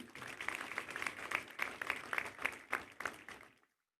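Applause at a Waltersmith refinery commissioning and groundbreaking ceremony, a ragged burst of clapping from the audience that rises and falls for a few seconds before cutting off abruptly.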